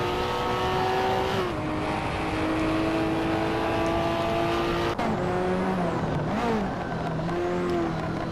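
Hot Wheels race car engine revving and accelerating hard, a loud continuous whine climbing in pitch with a gear shift, then a second engine note sliding down and back up as cars pass close.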